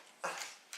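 A dog gives a short, breathy whimpering yip, followed by a second brief one a moment later, fairly faint against a quiet room.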